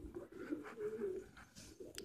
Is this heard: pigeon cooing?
yes